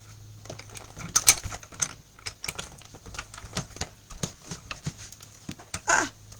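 Die cutting machine cranked by hand to cut paper for a shaker card, a quiet run of scattered mechanical clicks and taps with a couple of slightly louder knocks.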